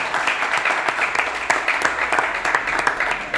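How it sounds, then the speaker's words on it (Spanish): An audience applauds Nacho at a film presentation for José Mota's La chispa de la vida, a steady, dense wash of clapping filling the whole stretch with a few sharper claps standing out. "Un aplauso para Nacho."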